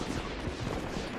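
A continuous rapid volley of gunfire from shooting enemies in the shooter game Utopia Must Fall, dense and steady, moderately loud throughout the brief moment without speech.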